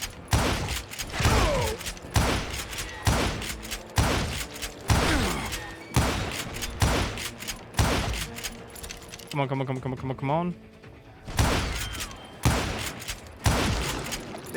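Enemy gunshots crack out in the Western shooter Call of Juarez: Gunslinger, a rapid series of sharp loud reports with metallic clatter, broken by a short musical sting, while a man urges someone on.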